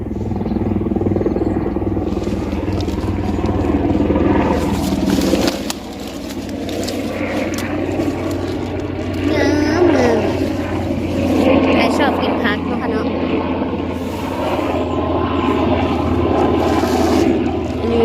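An airplane flies overhead above a vegetable garden, its droning hum swelling and fading in the distance while a person talks over it.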